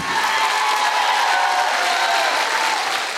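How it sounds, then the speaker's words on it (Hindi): A crowd at a Blue Diamond AWPL gathering in Samastipur, Bihar applauds loudly, a thick continuous wash of clapping with a few cheers throughout. "जोरदार ताली होनी चाहिए, जोरदार मेरे दोस्त"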